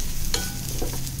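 Ginger and green chilli sauté in oil in a pan, giving a steady close sizzle with brief scraping stirs.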